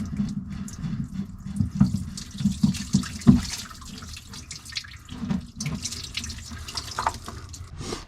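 Antifreeze draining from a 2022 G23 wakeboat during winterization, splashing and trickling onto the ground like a running tap, steady with a few louder gurgles, heard alone.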